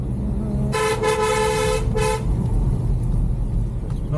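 A car on a road sounds two blaring horn toots in quick succession over a constant rumble of passing traffic, heard from a roadside during a ride from Bangalore to Chikmagalur.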